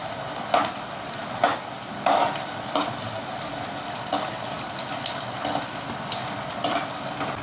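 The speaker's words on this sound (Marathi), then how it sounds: "भजे असे सुटसुटीत झालेले आहेत तेलात। आता मी थोडेसे खालवर करून घेते, लालसर होईपर्यंत तळून घ्यायचे" Rice bhaji fritters deep-frying in hot oil, a constant bubbling hiss broken by sharp clicks and knocks at irregular intervals as the fritters are turned.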